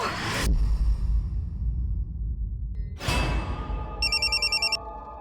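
A telephone gives a short electronic ring near the end of a dramatized crime scene, after two loud whooshing transition sweeps, with no voices during the ring.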